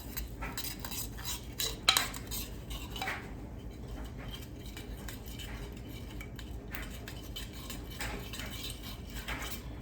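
A spoon or utensil clinks and scrapes steadily against a bowl while a seasoning mixture for ears of corn is stirred, with repeated close taps and rattles over roughly ten seconds and no talking.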